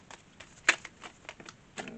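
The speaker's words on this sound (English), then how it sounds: "3 more shuffles, and I'm taking the top and the bottom." Tarot cards being shuffled by hand, a series of soft, quick papery riffles and taps spread across the moment, with one sharper, louder flick near the middle and another toward the end, fairly close and quiet.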